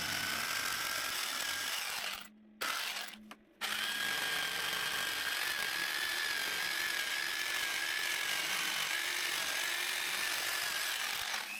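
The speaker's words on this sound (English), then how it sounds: "I take the jigsaw and cut until the piece of ash takes the shape of a key." A jigsaw cuts steadily through a piece of ash wood, shaping a key holder; the loud, continuous buzzing rasp stops briefly twice early on, then runs unbroken and close for the rest.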